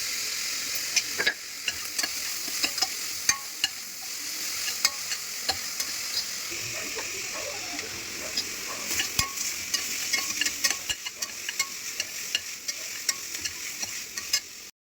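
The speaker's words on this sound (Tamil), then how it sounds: "இப்போ வெங்காயத்தை வதக்கிக்கலாம்." Onions sauté in oil with cinnamon, cloves and cardamom for a chicken gravy, making a constant bright sizzle close up, punctuated by frequent sharp scrapes and taps of a spatula against the pan.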